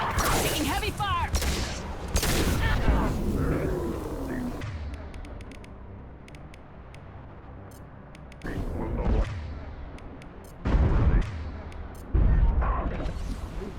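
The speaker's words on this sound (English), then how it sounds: "Taking heavy fire!" Heavy video-game gunfire rattles in dense, loud bursts with booming volleys. It drops to a quieter stretch, then flares up again in short blasts, with voices calling out among the shots.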